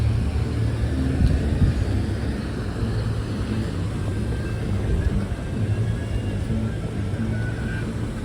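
Busy city street traffic in Huntsville, a steady broad rumble of passing cars and engines with continuous low-frequency roar, moderately loud and constant with no clear speech.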